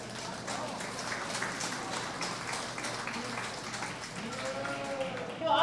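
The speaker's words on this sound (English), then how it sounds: "Let's give them a round of applause." Audience applause for the young exhibitors at a county fair sheep and goat show, a steady crowd clapping that holds through the clip, with a voice starting to speak near the end.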